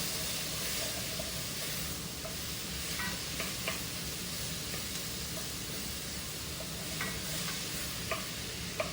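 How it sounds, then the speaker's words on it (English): Garlic and onions sizzle steadily in a pot over medium heat, a continuous frying hiss with occasional stirring clicks and scrapes, close and even throughout with no talking. "I'm now going to add the garlic. I'm going to put this down to about medium heat right now."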